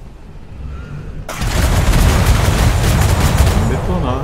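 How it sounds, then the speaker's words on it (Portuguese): Ship cannons in the survival pirate game Atlas fire in a dense, continuous barrage against a level 24 galleon, loud booming volleys that start abruptly and keep rolling. "Bicho, começou a atirar."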